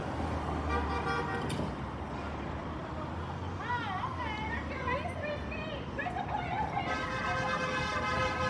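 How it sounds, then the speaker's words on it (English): Car horns honk at a street protest outside Disney Studios in Burbank, with several toots early and again near the end over steady traffic, crowd noise and close talking. "you're gonna hear a lot of more people honking"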